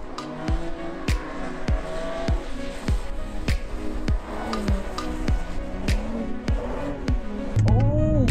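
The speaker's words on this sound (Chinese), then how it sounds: "You've done a good skid." A new BMW M3/M4 drifts on a race track at an Australian media day, with steady rhythmic knocks inside the cabin and a brief rising tire squeal near the end.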